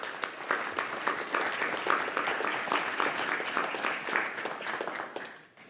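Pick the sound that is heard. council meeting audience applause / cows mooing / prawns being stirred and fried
council meeting audience applause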